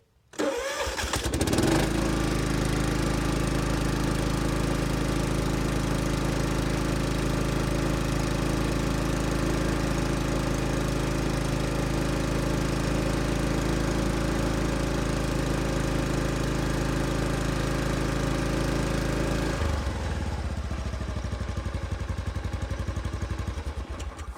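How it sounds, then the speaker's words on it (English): A lawnmower engine cranks and catches, then runs loud and steady for about twenty seconds before dropping to a lower, rougher idle, close up with no voices. "So I'm gonna see if we can start it up now."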